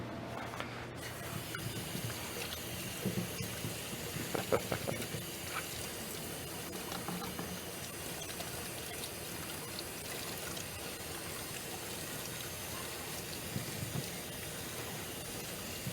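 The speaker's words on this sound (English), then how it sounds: "Now we're gonna wash our hands." Running tap water pours steadily while hands are washed in a kitchen, a continuous close hiss and splash with faint trickling shifts, lasting the whole stretch with no talk.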